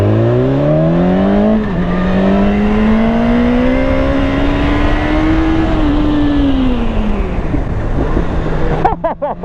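BMW S1000RR HP superbike with a 230 hp engine, revving hard with its exhaust flap opening at high rpm: a loud, close, rising and falling howl that climbs steadily, then tails off before a sharp burst of noise at the end.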